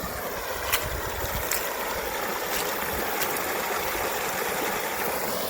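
Water overflowing a farm pond dam in Southern Illinois after heavy rains, a steady broad rushing wash with a few faint splashes, continuous and moderately loud, with no voices.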